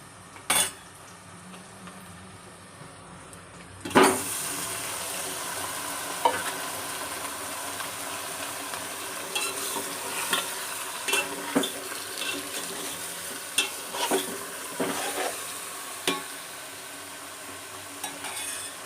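Fish drops into a pan of fried onions and green chilies for fish curry, with a sudden loud sizzle that settles into steady frying, plus clinks of a utensil against the pan.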